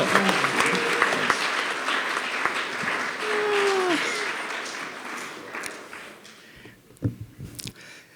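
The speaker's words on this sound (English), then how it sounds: "I'd like to give you a round of applause with everyone else here" Graduation ceremony audience applauding in a large hall, steady broad clapping that slowly thins out toward the end, with a few scattered loud claps and voices near the close.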